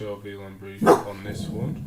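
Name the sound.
dog barking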